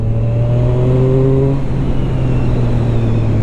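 A Zontes 703 RR motorcycle engine pulls hard in a high gear without a downshift. Its loud, steady drone rises gradually in pitch and then evens out under strong wind rush.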